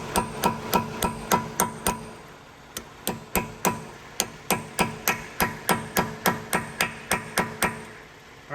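Metal hammer strikes unstake the front axle nut of a 2014-2017 Toyota Highlander V6 AWD, about two dozen sharp ringing blows in a steady, quick rhythm with a brief pause partway through, close and loud with no talking.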